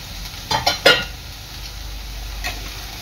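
Chili powder, chili flakes and oregano stirred into pizza pocket filling in a pan: three quick, close scraping strokes over a faint sizzle, then a quieter stretch with one soft stir near the end.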